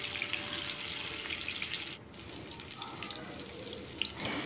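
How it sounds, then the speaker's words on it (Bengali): Stuffed bitter gourd (karela) fries in a pan with a steady bright sizzle, close and continuous, with a brief dip and faint clatter as the pieces are turned. "এই দেখুন একটা সাইড আমার ভাজা হয়ে গেছে আবার আমি ঘুরিয়ে দিচ্ছি ঘুরিয়ে আবার অন্য দিকটা ভেজে নেব"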